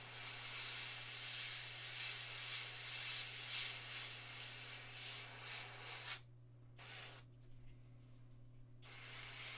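An airbrush sprays paint onto a miniature figure with a soft, steady hiss close by that cuts off twice near the end, leaving only a low background hum.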